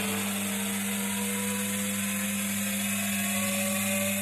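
A Samsung Diamond washing machine drum spinning up during a repair test, a loud, steady mechanical whine with a strong motor hum, running continuously and close.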